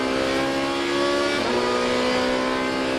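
Loud roaring engines of Dodge Viper race cars accelerating past on a circuit, a sustained high rasp with a brief pitch dip midway.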